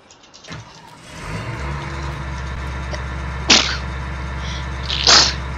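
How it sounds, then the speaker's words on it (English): Two sharp human sneezes, the first at mid-clip and the second near the end, heard over a steady low engine drone in a farming game. "sneeze in your arm. That's what I did."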